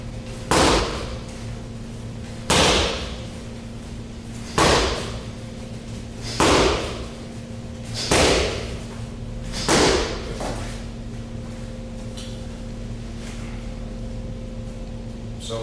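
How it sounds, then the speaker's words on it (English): Rear-leg kicks land on Thai leg kick trainer pads as six loud, sharp smacks, each with a short thud, spaced evenly about two seconds apart, then quiet. "instead of always attacking the inside of the lead leg, just bang with the rear foot"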